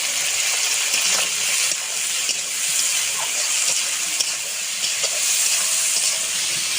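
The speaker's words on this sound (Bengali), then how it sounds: "পটলটা একটু ভেজে নেব, তারপরে কাঁঠালের বীজ আর আলুটা দেব।" Pointed gourd (potol) frying in a pan with salt and turmeric, giving a steady, close broadband sizzle and hiss that holds evenly throughout with no talking.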